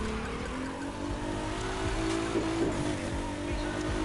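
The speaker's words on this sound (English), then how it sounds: "slide around, and see the action of drifting to see how it turns out" A car drifts around a race track in The Crew 2, in third gear. A steady engine drone carries a sustained whine and faint tire scrub, with brief squeals midway.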